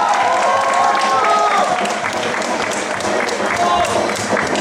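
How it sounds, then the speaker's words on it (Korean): Crowd applause and cheering at a Red Bull BC One 2014 Seoul breakdance cypher battle, a dense, steady wash of clapping that stays loud throughout with only a slight dip partway. "와, 어떻게 박수가 점점 작아지네요,"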